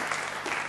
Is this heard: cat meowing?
no